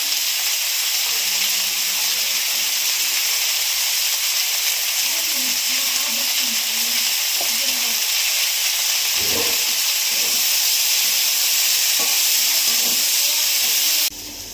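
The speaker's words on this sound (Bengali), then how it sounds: "এই যে আমার কুদরি ভাজা হয়ে গেছে" Chopped ivy gourd fries in hot oil with salt, turmeric and green chillies, giving a loud, steady hiss and sizzle throughout, with faint talking underneath.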